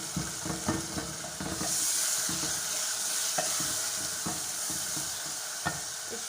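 A spoon stirs tomato paste in a cooking pot over a normal flame, with continuous sizzling and frying and repeated close scrapes and knocks of the spoon against the pot, no voices.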